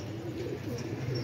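Pigeon cooing on a rooftop loft where a falcon threatens the flock, soft repeated low coos running steadily under background noise, with no clear talk.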